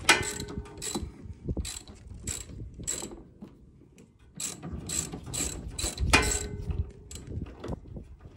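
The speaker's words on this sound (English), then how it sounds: "It's a 14 millimeter wrench, is what I'm using." A 14 mm wrench ratchets on a riding mower tie rod, giving bursts of quick metallic clicks in uneven runs with short pauses, close and moderately loud, no talking.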